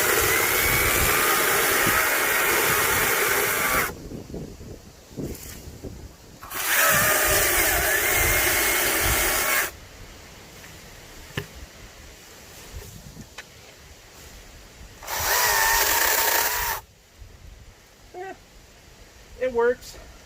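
A Greenworks GS110 top-handle electric chainsaw cutting wood, loud whining bursts that start and stop three times with quieter gaps between, close by, with a voice talking in the pauses.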